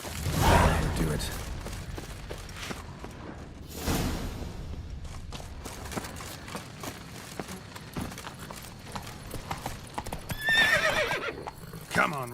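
Roach the horse in The Witcher 3 video game gives a loud whinny near the start, with clip-clopping hooves continuing throughout and another neigh toward the end, over game ambience and occasional speech.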